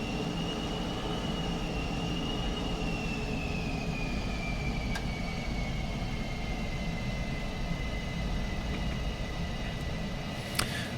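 An F-4 Phantom II jet rolls for takeoff in Microsoft Flight Simulator 2020, its engines giving a steady, loud roar with a whining tone that slowly drifts lower, continuous for the whole stretch with no voices.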